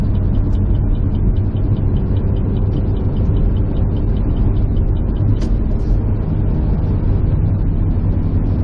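Low steady engine drone and road rumble from a car with a suspect transmission, bought at a dealer auction, pulling onto the highway, heard from inside as a continuous hum with no talk.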